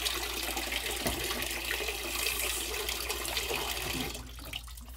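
A faucet runs steadily while toys are washed, a continuous rushing splash of water that drops away abruptly near the end.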